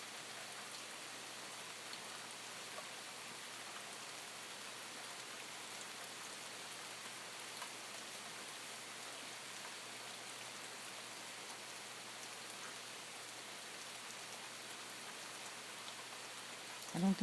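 Rain falls steadily outdoors at night while coyotes are out, a constant even hiss of drops on surfaces lasting throughout, with no talking and only a small bump at the very end.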